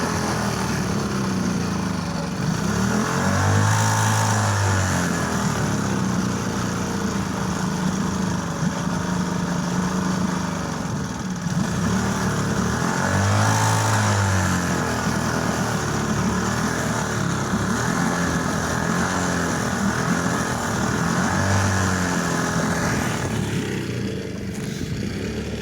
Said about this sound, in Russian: А вот так на ветерке устанавливают такой двигатель китайский.